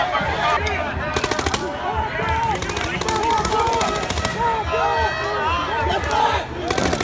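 Rapid bursts of sharp popping blasts from firecrackers and M80s crackle in quick succession over a shouting crowd at a street rally, loud and chaotic.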